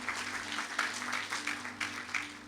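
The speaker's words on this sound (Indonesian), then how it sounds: "Beri tepuk tangan untuk Tuhan Yesus." A church congregation applauding during a worship service, a moderate wash of clapping heard from some distance with a few louder bursts and a low steady hum beneath.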